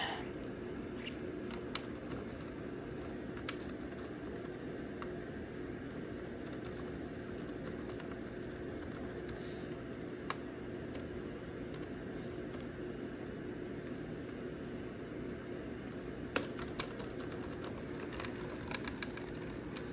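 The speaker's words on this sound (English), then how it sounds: "We could just type some stuff." Sparse keyboard clicks while typing into Notepad on a Windows 7 computer, faint and scattered over a steady hum of background noise, with no one talking.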